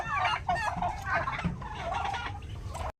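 Hybrid turkey hens calling in a rapid run of clucks and gobbling notes for about three seconds, fairly close and moderately loud, ending abruptly.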